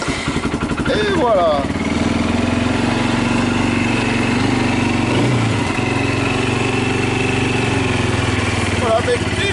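A quad ATV engine, just fitted with a new battery after the old one died over winter, runs steadily at a loud, even idle with the choke partly on, while someone speaks briefly over it.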